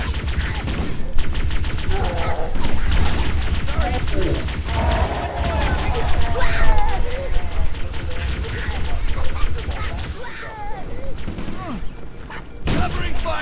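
Continuous rapid gunfire and explosions in the Halo CE video game, a dense, loud barrage of automatic shots with occasional booms, with voices talking over the fighting.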